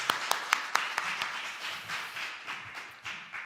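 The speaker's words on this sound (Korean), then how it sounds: "하나님께 영광의 박수 돌리겠습니다." A church congregation at a Sunday worship service applauds, several sharp distinct claps at the start turning into sustained, moderately loud clapping from a crowd.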